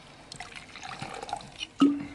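Water is poured in a 1976 German crime radio play: a short liquid trickle and dribble with faint background, ending in a louder splash or clink near the end.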